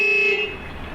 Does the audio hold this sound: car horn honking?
yes